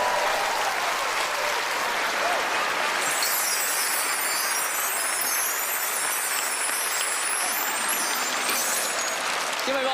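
A live studio audience at a magic competition show applauds volunteers with loud, sustained, dense clapping and some cheering that fills the whole stretch without a break.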